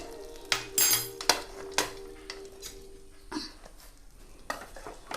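A spoon scraping and clinking against a pan while stirring a batani gasi, a potato and green pea curry, with a few sharp metallic knocks followed by softer scraping and faint sizzling, close and alone.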